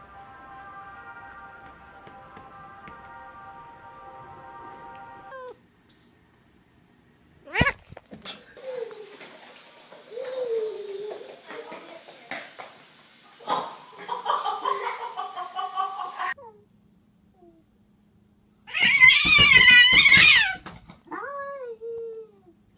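A pet cat gives a few drawn-out meows at close range, with a loud harsh yowl near the end, separated by quiet gaps and bits of background noise.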